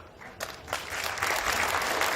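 An audience at a talk session breaks into applause, starting lighter and swelling into steady, dense clapping throughout.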